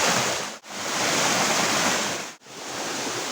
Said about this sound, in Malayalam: ആ തോട്ടിൽ നിന്ന് വെള്ളം ഒഴുകി വന്നിട്ട് ശക്തിയായിട്ട് താഴേക്ക് പതിക്കുന്നതാണിത്